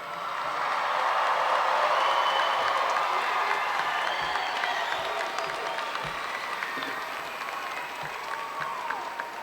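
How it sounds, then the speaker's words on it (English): A graduation crowd at a South Carolina high school ceremony gives the class of 2022 a sustained, loud round of applause, dense clapping swelling and then slowly tapering over several seconds. "Let's give them one more round of applause."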